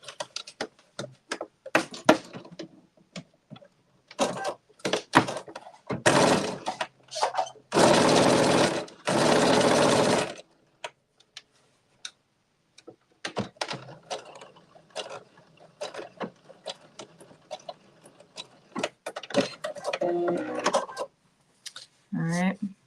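Home sewing machine stitching a seam for a garment, heard in short bursts of rapid mechanical chatter with one longer steady run, mixed with pauses where someone talks nearby.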